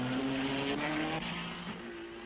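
A Cooper Formula 1 race car, the Cameradi entry driven by Marston Gregory, at the 1961 Belgian Grand Prix at Spa: a loud, close engine drone whose pitch shifts over a couple of seconds, with no talk.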